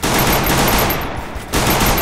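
Rapid automatic gunfire from the mobile battle-royale game Free Fire, a dense continuous burst that dips briefly in the middle before resuming loudly, with no voices.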